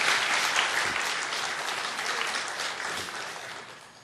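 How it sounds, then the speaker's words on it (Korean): A church congregation breaks into dense, steady applause as newcomers are welcomed, a loud wash of many hands clapping together that slowly eases off toward the end, with no talking over it. "인사할 때 박수로 환영하겠습니다."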